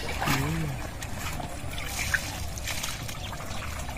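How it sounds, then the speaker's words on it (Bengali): Freshly caught fish from a wetland in a Bangladesh village are rinsed by hand in water, with steady trickling and light splashing close by while people talk over it. "এই জন্য মাছ বিল থেকে ধরে এনে কিন্তু এখানে বাছাই করে তারপরে ধুয়ে নিচ্ছে একদম চকচকে করে"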